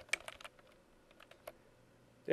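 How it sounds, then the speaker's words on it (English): Several quick keyboard-shortcut key presses on a computer keyboard during photo retouching, a short burst of close, light clicks followed by a pause and a couple more taps. "I'm trying my keyboard shortcuts on the wrong account again"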